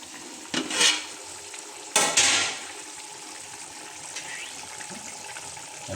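Water for Chennai-style dum biryani boils in a pot on a home stove, a constant bubbling hiss. Two louder gushing surges come near the start before the sound settles back into a steady simmer.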